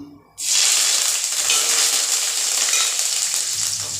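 Curry leaves drop into hot oil for an egg curry and erupt at once into a loud, close, crackling sizzle. It keeps up a steady hiss for several seconds with faint stirring scrapes and no talk.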